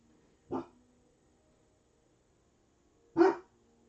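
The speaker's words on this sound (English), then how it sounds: "Sorry for my dog barking." Two sharp dog barks a few seconds apart, fairly close, with near silence between them.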